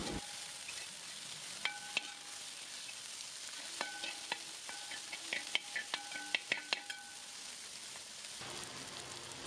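Sliced onions, four of them, sizzle and fry in hot oil in a pan as a spoon stirs and scrapes through them, with clicking taps against the pan over a steady close crackle.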